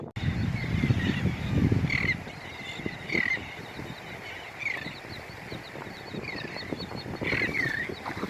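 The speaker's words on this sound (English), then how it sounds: "Whole flock of seagulls, let me show you." A flock of seagulls on the Mississippi Gulf Coast, with repeated squawking calls at mid distance over steady outdoor wind and water noise, plus a brief low rumble at the start.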